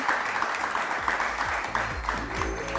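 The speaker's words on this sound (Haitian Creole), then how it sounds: "nous avons demandé pour le public là applaudir l'artiste pour nous" An audience applauds an artist at a live event for the MILENYAL show, a steady, dense wash of clapping from many hands throughout, with a faint voice murmuring underneath.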